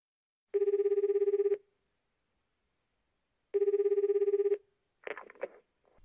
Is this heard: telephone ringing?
yes